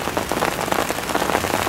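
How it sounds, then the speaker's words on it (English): Heavy rain pours steadily onto an outdoor rain catchment, a dense, continuous hiss of drops hitting the surface that stays loud and even throughout. "The rain's starting to get a little heavier."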